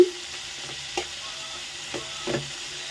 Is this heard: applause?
no